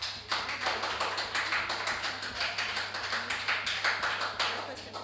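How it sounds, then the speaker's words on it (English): An audience applauds at a formal debate-style event, a steady, fairly quiet patter of many hands clapping for about five seconds. "I invite a round of applause"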